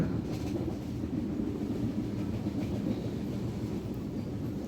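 A train rumbles steadily along the tracks near Bhangura, Pabna, passing Chalan Beel wetland, a continuous low roar with faint rhythmic clatter of wheels on rails, heard from on board.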